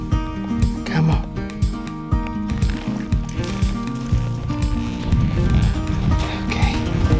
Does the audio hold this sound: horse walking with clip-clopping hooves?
yes